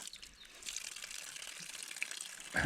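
Mountain spring water flows and splashes steadily on a high meadow in the Gorgany range, a continuous close trickling gush that ends with a louder surge.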